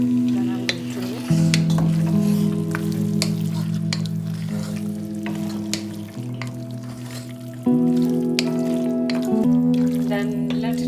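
Lamb meat for potato curry sizzling as it is stirred in hot oil in a pan, a steady close fry with a strong low hum in the background.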